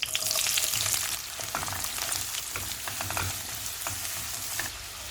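Onions fry in plenty of sesame oil in a kadai, a steady close sizzle with scattered pops and crackles throughout, no voices.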